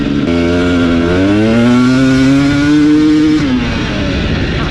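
A 2021 KTM 250 XC TPI two-stroke dirt bike engine winds up loud and close, its pitch rising steadily through a rev before dropping off, with a buzzy, raspy tone.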